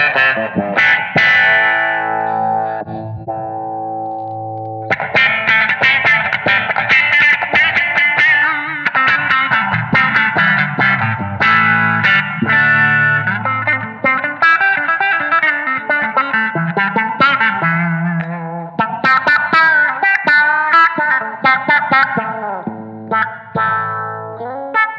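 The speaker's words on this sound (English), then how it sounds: "everyone loves an envelope filter auto-wah type thing because you can get some quite quacky sounds" An electric guitar plays through a quacky envelope filter auto-wah on a Blackstar ID:CORE V4 Stereo 40 amp, each note sweeping with a wah-like vowel sound, riffing continuously with distortion and echo.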